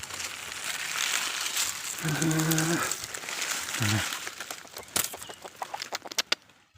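A red chicken clucks close by amid rustling and handling noises, with a few short calls and sharp clicks toward the end.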